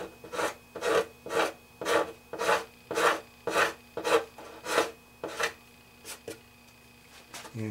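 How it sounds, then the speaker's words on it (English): Slow, rhythmic rasping strokes scrape across wood, about a dozen passes at an even pace, close and clear with quiet pauses between. "Just going to keep scraping here and I'll take off the excess."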